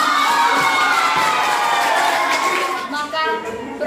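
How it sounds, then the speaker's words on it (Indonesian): A high school class at a historical drama performance claps and cheers loudly and continuously, with children shouting in the crowd, the applause fading slightly toward the end. "Tepuk tangan semuanya."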